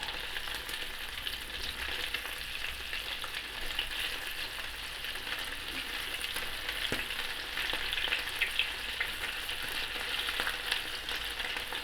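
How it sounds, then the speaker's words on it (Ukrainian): Steady sizzling of chicken liver frying in a hot pan, a continuous crackling hiss with a few faint clinks, no voices. "Печінка смажиться швидко."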